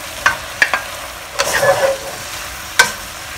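Choy sum greens stir-frying in a wok for a chap chye mixed vegetable dish: a steady sizzle with a few sharp metallic scrapes and taps of the spatula, close and fairly loud, no talking.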